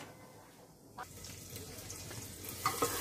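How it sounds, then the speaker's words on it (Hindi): Cumin seeds hit hot oil in a pan, a soft, close crackling sizzle that swells after a brief quiet moment, with a couple of small clinks near the end. "तेल हो गया है तो मैं इसमें डालती हूँ जीरा"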